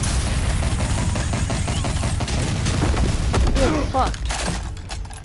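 Gunfire in Telltale's Batman game, a dense burst of rapid shots and booms that fades toward the end, with a man swearing once over it.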